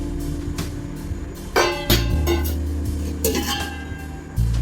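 Cooking pots from a household utensil set handled and knocked together, giving several sharp metallic clinks and clanks over a low steady background hum.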